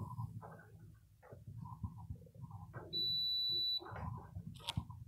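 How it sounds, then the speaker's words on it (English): A multimeter gives a continuity test beep on a wind turbine slip ring connector: one steady electronic tone lasting nearly a second, sounding amid handling clatter and background noise. "Here's your continuity test through."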